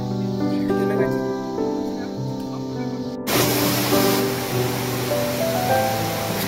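A mountain waterfall on the Goecha La trek in Sikkim, its broad rushing spray rising abruptly and then roaring steadily close by, after a stretch of quieter hum and faint voices.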